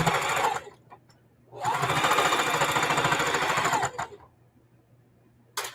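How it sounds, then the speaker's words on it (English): A sewing machine runs a straight seam in quilting fabric, giving a loud rapid mechanical whir for about two seconds between short quieter bursts and pauses, with a brief final start. "I'm pulling it apart, and I'm sewing down the straight seam"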